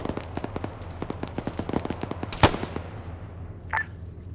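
Rapid automatic gunfire rattles in an Arma battle against a tank, a steady run of sharp shots followed by one heavy blast and a brief metallic ping as the firing stops.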